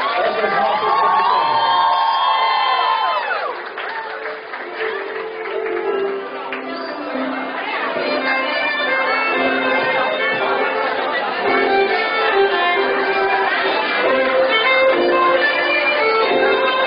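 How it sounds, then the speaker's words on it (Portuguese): A crowd at a party in Ceilândia, Brazil, cheers and claps, a broad swell of noise with shouts and whoops that dips briefly then builds again, with music faintly underneath. "Uma salva de palmas para as nossas profissionais."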